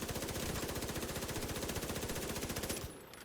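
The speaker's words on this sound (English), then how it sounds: "when I'm shooting at it with my P90, the damage increases significantly" Rapid automatic P90 gunfire in a video game, a fast even stream of loud shots firing continuously for nearly three seconds before cutting off abruptly.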